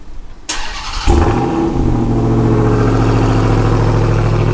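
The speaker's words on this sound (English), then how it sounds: "He wants to hear the TRX fire up" A Ram TRX pickup truck's supercharged engine cranks and fires up, catching with a loud roar about a second in and then settling into a deep, steady, rumbling idle close by, with no talking.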